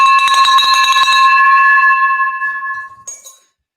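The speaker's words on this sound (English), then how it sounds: "I'm going to give this the bell" A single bell strike rings out close and loud, its bright metallic tone decaying over about three seconds, with a faint clink just as it fades.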